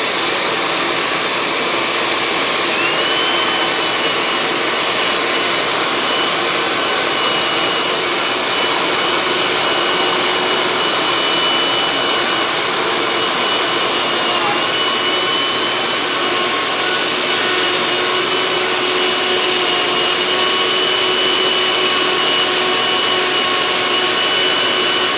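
Milwaukee 2723 compact router cutting freehand with a V-bit into wood, a loud continuous high whine and roar with small pitch shifts as the bit bites, close and unbroken throughout.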